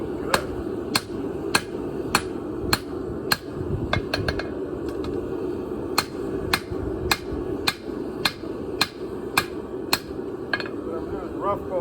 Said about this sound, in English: both sides with the big hammer.